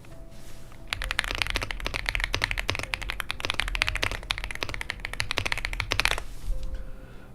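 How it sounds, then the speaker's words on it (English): Rapid, continuous clicking of fingers typing on a computer keyboard, close and fairly loud for about five seconds, with brief quieter moments at the start and end. "He's just typing?"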